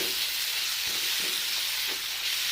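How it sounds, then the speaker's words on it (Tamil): Masala gravy with garam masala and turmeric being stirred in a frying pan, a steady broadband sizzle with faint scraping strokes throughout, close and continuous with no talking. "கிண்டி விட்டுக்கோங்க."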